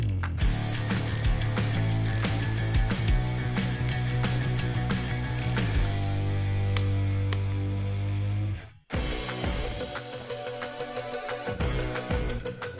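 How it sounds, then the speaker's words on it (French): A torque wrench ratchets in rapid clicking bursts while cylinder head nuts are tightened on a classic Mini, close and crisp, with a brief pause before the clicking resumes. "je peux les serrer au bon couple de serrage"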